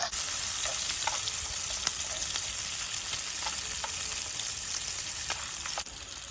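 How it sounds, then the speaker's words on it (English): Shrimps fry in hot oil with garlic, a steady dense sizzle with a few faint clicks of utensils throughout and no talking. "Now we're gonna fry the shrimps using the rest of the garlic."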